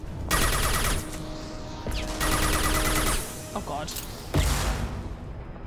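Gunfire in the video game Mass Effect 2 comes in loud bursts of rapid automatic shots separated by brief pauses, with a voice exclaiming over the shooting.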